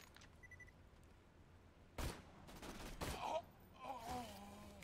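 Sniper rifle shots in Borderlands 2: two sharp broadband cracks a second apart, followed by a ringing tonal tail, over a quiet game ambience.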